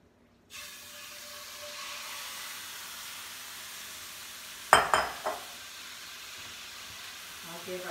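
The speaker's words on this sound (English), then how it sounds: "I'll give our vegetables another stir" Vegetables sweating in a hot pan for a sausage ragu, a steady bright sizzle throughout with a few sharp scraping clatters as they are stirred midway.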